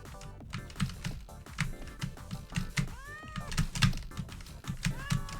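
Cartoonish meow sounds from pinball bumpers rise and bend repeatedly over a busy electronic game soundtrack with rhythmic clicking and bumping, fairly loud and continuous.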